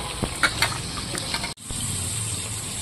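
Whole bitter gourds being rinsed under running water: a steady, close rush of flowing water with a few splashing bumps early on, briefly cut off midway before the stream resumes.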